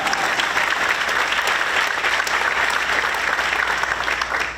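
Audience at a Joe Biden speech at North Carolina A&T applauds and cheers steadily throughout, a dense, loud wash of clapping with shouts mixed in and no break.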